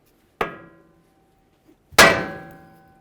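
A hammer strikes the steering knuckle of a 2006-2010 Ford Explorer twice to separate the upper ball joint: two sharp, close metallic bangs about a second and a half apart, the second louder, each ringing briefly.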